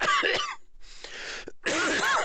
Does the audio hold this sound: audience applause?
no